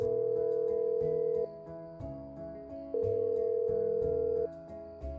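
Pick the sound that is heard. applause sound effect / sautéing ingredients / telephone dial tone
telephone dial tone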